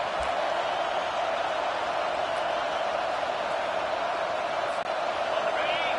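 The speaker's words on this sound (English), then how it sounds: "Here comes this home crowd as the defense tries to get off the field on third down." A steady, droning roar from a home crowd in a college football video game as the defense faces third down, a continuous wash of noise with no clear peaks.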